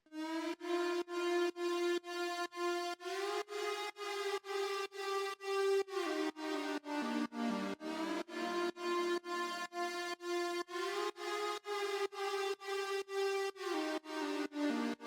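A synth lead melody built from a saw wave with flanger and delay, programmed in FL Studio, plays alone in steady repeated notes that rise and fall across a drop section.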